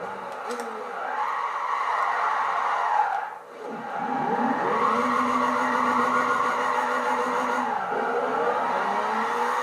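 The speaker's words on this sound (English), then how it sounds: "we're even burning tires in 4th gear" A Nissan Silvia S14 drifting in Gran Turismo 5 holds a long, loud tire squeal over a steady engine drone, briefly easing off midway before the screech resumes as the car slides on in fourth gear, with someone talking over it.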